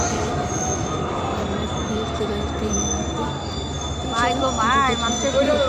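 A train rumbles in and slows, wheels squealing shrilly against the rails near the end, with background crowd noise of a busy station platform.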